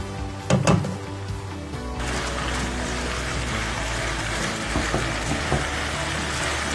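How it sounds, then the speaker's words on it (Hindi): Dal poured into roasted masala in a hot pan, with a short clattering pour followed by a steady, even sizzle and hiss close by. "मसाला भुन गया है, इसमें मैं ऐड करूंगी दाल।"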